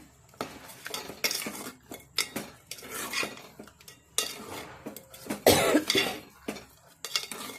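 A spoon stirs jaggery into hot cooked rice in a metal pot, making repeated scraping and clanking strokes of uneven rhythm. The sound is close and moderately loud, with a sharper knock midway.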